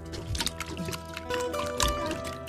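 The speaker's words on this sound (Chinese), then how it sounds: "先把这个切好的猪肝洗一下，放点盐，放点清水" Sliced pig liver is rinsed with salt and a little water in a bowl, giving close, soft sloshing and trickling with light clinks and splashes, uneven and intermittent, with no talk.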